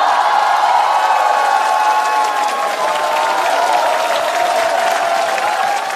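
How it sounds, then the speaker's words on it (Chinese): Live studio audience at a Chinese roast comedy show applauding steadily and loudly, a dense wash of clapping with some crowd cheer running unbroken throughout. "热烈的掌声送给两位"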